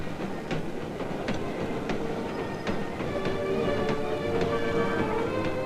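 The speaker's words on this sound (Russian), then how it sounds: "Этот специальный строительно-монтажный поезд снарядила Коми Республика." A special construction and assembly train of railway cars rolls past steadily, rhythmic wheel clatter and metallic clicks repeating over a continuous rumble, fairly close and alone without speech.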